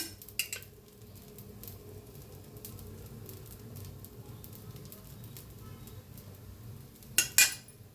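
Mysore dosa batter being spread and oiled on a hot pan, with faint scraping and soft sizzling, a few light metal clinks near the start and a louder clatter toward the end.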